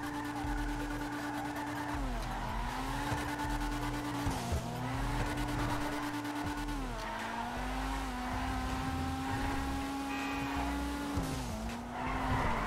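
Car tyres spinning and skidding in GTA Online on drift tyres, a loud sustained squeal with repeated pitch dips as the engine revs and wheels lose grip, continuous with no talking.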